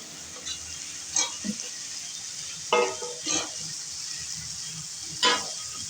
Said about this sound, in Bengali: মশলা কষিয়ে নেওয়ার পর এবার আমি দিয়ে দিচ্ছি পেঁয়াজ কালি